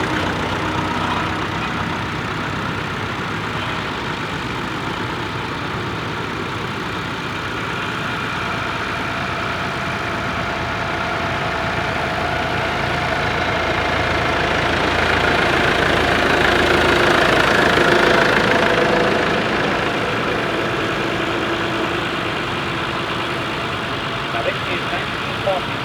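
A Ferguson TE20 tractor engine idling at a show, a steady close running drone that swells briefly in the middle, with someone talking over it.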